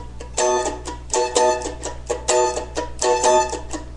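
A guitar plays a short repeated lick, each note picked separately in quick bursts with brief gaps between phrases, close and clear.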